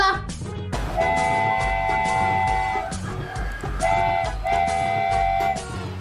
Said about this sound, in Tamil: அது ஒரு ட்ரெயின் வருது, அத பார்க்கலாம்.